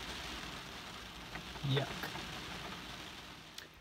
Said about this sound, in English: Look at the rain now.